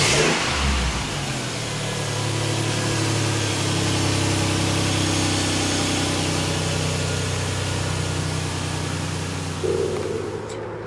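A motorcycle that sat for months with a flat battery, started with a small 12-volt jump starter: the engine catches and then runs with loud, steady revving close by, the pitch rising and holding without speech.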